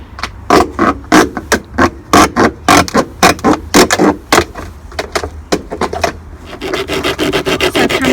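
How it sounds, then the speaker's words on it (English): Sandpaper rubbed by hand along wooden edges for a backyard pond build, a loud, close series of quick rhythmic back-and-forth strokes, then steadier continuous rasping toward the end. "using some sandpaper to make sure the edges aren't sharp"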